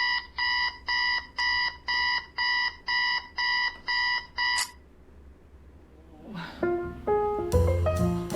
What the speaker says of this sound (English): Got I guess an alarm clock